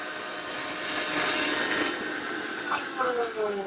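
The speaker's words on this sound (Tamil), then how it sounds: "ஸோ மிக்ஸி ஜாரில் போட்டு நம்ம அரைச்சி எடுக்க போகிறோம்" A mixer grinder jar grinds whole spices into biryani masala for a seeraga samba mutton biryani. It gives a steady, loud whirring roar that runs the whole time, with a few rising whines near the end.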